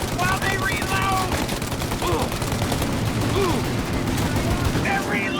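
Dense gunfire rattles through a shootout in the video game Mafia Definitive Edition, with rapid overlapping automatic bursts, sharp single shots and ricochet whines filling the whole stretch, fairly close and loud.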